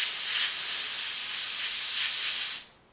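An airbrush sprays a fine hiss of green paint over a stencil for a Minecraft Creeper design, steady and close for about two and a half seconds before cutting off.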